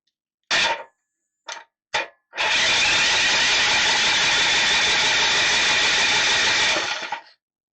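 High-compression 212cc mini bike engine: three short failed pull-start bursts, then it catches and roars at wide open throttle, loud and steady for about five seconds before cutting out into silence.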